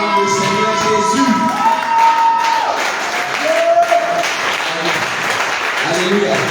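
Congregation applauding to acclaim Jesus during an intense prayer and spiritual warfare evening service in Bingerville, a steady wash of clapping with crowd noise and a voice over it throughout.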